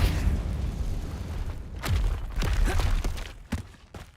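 Confringo fire spell exploding in the Hogwarts Legacy video game: a dense, rumbling roar that breaks into a few sharp, cracking blasts near the end before fading.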